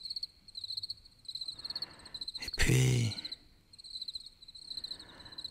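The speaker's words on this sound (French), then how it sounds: "un grillon qui chante" A cricket chirps at night somewhere in the trees, giving steady, high, pulsing trills that repeat in short bursts throughout. Someone speaks briefly in the middle, cutting across the chirping.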